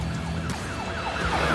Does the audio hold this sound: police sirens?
yes